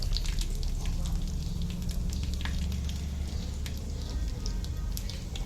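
Curry leaves frying in hot tempering oil with a dried red chilli, giving a steady, dense crackling sizzle that holds loud and close throughout with no talk.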